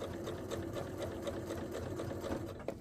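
A sewing machine top stitching a facing on a garment runs in a fast, steady mechanical whir with a rapid needle rhythm, close by and uninterrupted, easing off right at the end.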